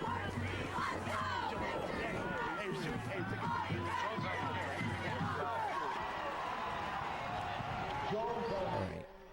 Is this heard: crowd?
yes